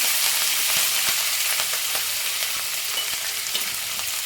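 Dry red chillies, chopped green chillies and garlic fry in hot oil for Andhra-style gongura pappu, a dense, continuous bright sizzle with faint crackles, close and steady throughout.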